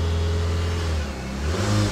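The turbocharged engine of a Proton Exora MPV revs up, settles briefly and climbs again, a loud close rumble with no talk.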